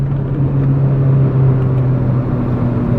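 A Mercedes GLA 45 AMG's turbocharged engine with dual-clutch transmission pulls hard under acceleration, a steady, loud low droning rumble with sustained tonal hum, heard from inside the car with no talk.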